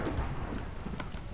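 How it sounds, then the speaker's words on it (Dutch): Rumbling thunder rolls under steady rain in a Minecraft thunderstorm, dense low noise with a few brighter crackles, continuous and fairly loud throughout. "Het bliksemt, het bliksemt."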